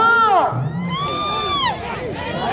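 Spectators at a bullock cart pulling contest shout and cheer loudly, with rising and falling whoops and hollers from many voices, close and continuous.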